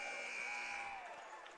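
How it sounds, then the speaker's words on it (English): A basketball game-end buzzer sounds in a gym during a men's college game, a steady electronic tone held through most of the moment over crowd noise, fading slightly near the end. "As the buzzer sounds."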